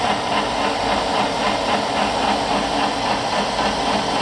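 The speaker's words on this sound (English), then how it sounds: "Now when you turn the machine on, it automatically turns the coolant pump on" An Oliver Model 600 3-inch drill grinder runs steadily with its grinding wheel spinning and coolant pump on, giving a continuous even hum and hiss with a faint rhythmic pulse, alone and close.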